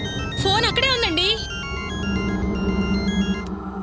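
A mobile phone ringtone plays a short melodic electronic tune over steady background sound in a household drama scene. It lasts about a second and then gives way to a lower, sustained hum.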